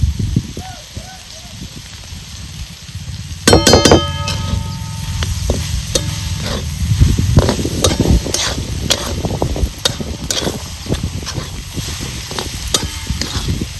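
Vegetables sautéing in a little oil in a pan, with sizzling and the clatter and scrape of stirring, sharp utensil knocks near the start and someone talking over the cooking.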